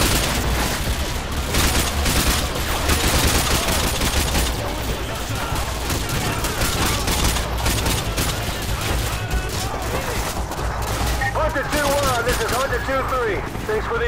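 Dense, continuous gunfire from Modern Warfare 2, with rapid automatic bursts and booming shots nearly nonstop, and someone talking over the din.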